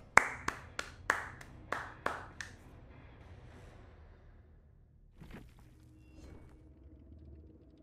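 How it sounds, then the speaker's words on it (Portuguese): About eight sharp hand claps in an uneven, slowing sequence, close and distinct, followed by quieter rustling and a couple of soft thumps. "Palmas para Sadako."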